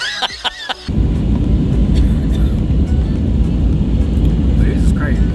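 Steady broadband roar inside an airplane cabin during flight, loud and continuous after a brief opening of speech and clatter, with faint higher noises over the constant engine drone.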